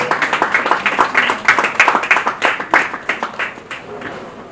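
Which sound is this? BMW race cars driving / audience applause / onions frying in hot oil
audience applause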